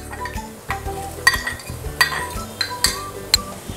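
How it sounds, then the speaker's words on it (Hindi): Stirring and clinking of a utensil in a pan as mushrooms go into half-cooked quinoa for a mushroom palak risotto, with a faint sizzle underneath and several distinct scrapes and taps spread across the few seconds. "अब हम इसमें मशरूम भी ऐड कर देंगे।"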